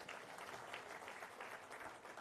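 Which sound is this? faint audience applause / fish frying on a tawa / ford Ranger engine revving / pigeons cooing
faint audience applause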